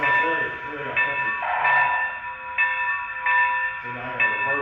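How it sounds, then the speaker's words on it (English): An N-scale model train's bell dings in a steady repeated pattern beside a sustained whistle-like tone, with someone talking over it throughout. "It's like that bell. It sounds very, very authentic."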